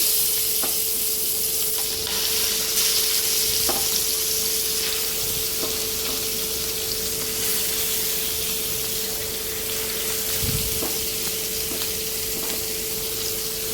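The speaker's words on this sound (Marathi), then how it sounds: "मस्त तेल तापले बघा, गरमागरम वाफून येते. मस्त मच्छी फ्राय करते" Vaam fish pieces fry in hot oil for an Agri-style fish fry, giving a loud, steady, close sizzle that runs unbroken, with a few soft clicks and taps from the pan along the way.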